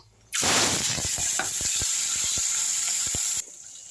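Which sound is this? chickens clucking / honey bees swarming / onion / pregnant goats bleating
onion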